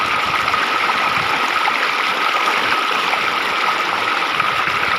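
Water gushing out of a farm borewell, a loud, continuous rushing torrent that fills the whole stretch steadily, with no talk.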